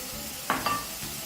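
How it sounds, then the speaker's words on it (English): Sliced peppers hit a hot frying pan with a short sizzle and a quick scrape of stirring, two close crackling bursts that fade back into a low background frying hiss. "at this stage I'm also going to start adding some of my peppers"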